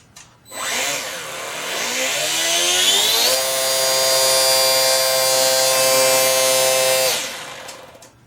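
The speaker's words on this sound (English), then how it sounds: "It's got pull for such a tiny little motor, but this is a brushed motor with a gearbox." A tiny brushed electric motor with a gearbox on a HobbyZone Sport Cub S RC plane winds up from idle to a steady, loud high-pitched whine, holds full power for several seconds, then cuts off abruptly.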